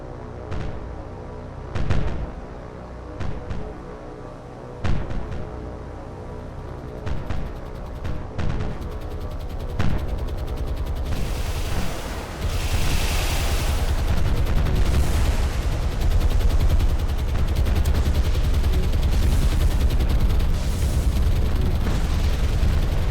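In War on the Sea, Allied aircraft attack destroyers in the Mediterranean as scattered gunshots and blasts crack out, then build into a sustained roar of heavy gunfire and explosions over the second half.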